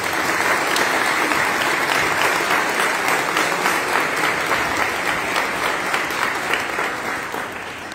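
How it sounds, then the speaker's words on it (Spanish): An audience at a ceremony applauds a group of young people, a full, steady round of clapping that holds strong before easing slightly near the end. "Un aplauso para ellos, por favor."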